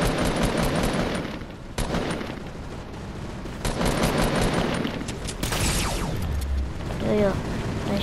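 Gunfire in the video game Fortnite, dense bursts of rapid shots and booms that run nearly the whole time, loud and busy, with a voice talking briefly over it near the end.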